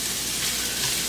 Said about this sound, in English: it's a little too hot. You don't want to hear that sizzle